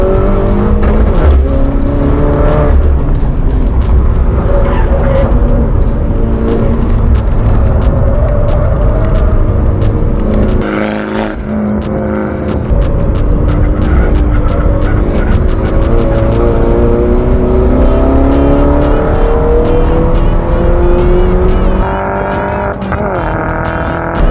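A race car runs a fast lap at a track event, its engine loud and close throughout, howling up and down through the gears under constant acceleration and braking, with a brief dip near the middle.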